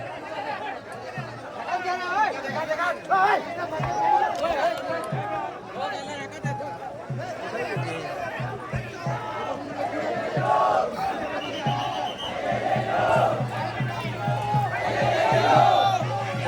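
Dense crowd at a village temple fair, continuous babble of many voices with shouts and chatter rising and falling, people talking nearby throughout.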